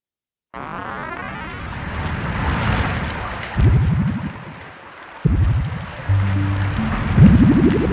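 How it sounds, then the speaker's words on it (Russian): Bubbling and gurgling of drowning opens a video game soundtrack track as a dense, loud wash of watery noise, with surging bursts and swells building over several seconds. "Это бульканье свидетельствует о том, как вы тонете в вечной мгле, и это происходит по сюжету игры."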